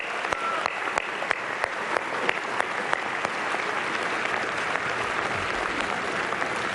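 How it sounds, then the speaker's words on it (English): Sustained audience applause fills a formal charity dinner in New York, dense steady clapping with scattered sharper claps, loud and close throughout without speech. "I think we all owe Al Smith a great, great round of applause."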